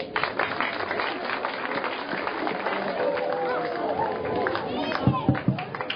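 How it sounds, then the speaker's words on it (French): Crowd applause at a community awareness evening at a Cameroonian lycée, steady clapping and chatter throughout, with a few louder close claps near the end and voices mixed in. "Applaudissez."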